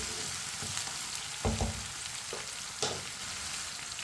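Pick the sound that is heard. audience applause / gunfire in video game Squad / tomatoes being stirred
tomatoes being stirred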